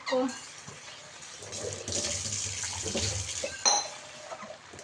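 Water is poured into a pot of cooked chickpeas on a home kitchen stove, making a brief splashing rush of about two seconds. Soft clinks of a pot and utensil come just before and after it.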